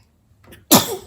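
A single sharp sneeze up close, with a brief intake of breath just before the burst.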